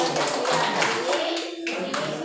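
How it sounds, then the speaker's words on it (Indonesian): A class of students clapping their hands together in a room, a brief burst of dense, quick applause at moderate distance with no speech over it. "Jadi tepuk tangan karena puas."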